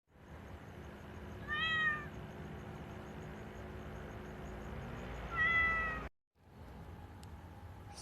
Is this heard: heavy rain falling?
no